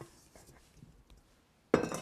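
Sticky butter cake dough drops into a glass 9 by 13 inch baking dish with a sudden clunk and clink of glass, followed by brief scraping and rustling, close and fairly loud after a quiet stretch.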